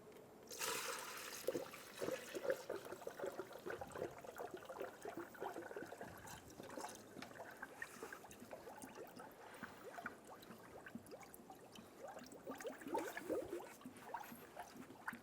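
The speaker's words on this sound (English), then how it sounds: "I'm going to install a funnel to refill our coolant" Coolant pours through a funnel into the radiator of a 2003-2007 Infiniti G35 during a water pump replacement. The liquid makes a faint, continuous gurgling and trickling with small splashy surges throughout.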